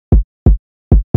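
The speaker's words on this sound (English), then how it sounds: "This is a kick from the Murder Beats pack on Splice." A kick drum sample from the Murder Beats pack on Splice thumps alone three times with short, punchy, deep hits and quick decay, ending as a fourth hit begins.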